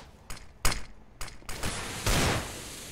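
Bursts of gunfire from a competitive shooter game during a WCA APAC grand final match, several sharp separate shots followed by a sustained louder volley, with no talking over them.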